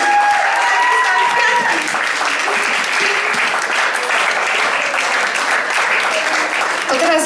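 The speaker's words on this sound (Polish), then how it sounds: "Wielkie brawa, dziękujemy pięknie." Audience applause at a jazz diploma recital by a vocalist from a Kraków jazz school, a full, sustained round of clapping with a voice speaking over it near the start.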